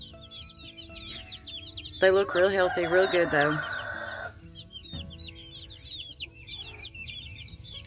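Several meat chickens, likely including a rooster, cluck and chatter in a homemade brooder, with a loud burst of excited squawking in the middle, while someone talks over them.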